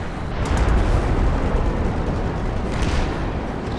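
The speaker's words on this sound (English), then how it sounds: "we're going to now target our howitzers right here and destroy this position" Howitzer artillery fire in the World War II strategy game Company of Heroes 2, with heavy booming blasts and rumbling explosions rolling over each other, loud and sustained with a second swell of impacts near the end.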